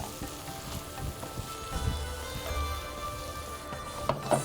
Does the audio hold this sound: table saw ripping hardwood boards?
no